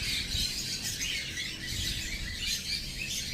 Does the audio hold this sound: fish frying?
no